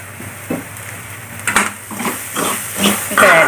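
Grated coconut and carrot frying in a pan for a carrot and drumstick-leaf thoran, heard as short bursts of sizzling and stirring scrapes, close and fairly loud, ending in a sharper sizzle.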